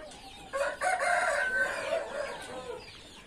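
Carijó chickens give a rooster's crow and some clucking, close by and fairly clear over a quiet background.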